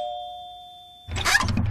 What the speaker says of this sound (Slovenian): Pa bom kar pozvonil pri prvih vratih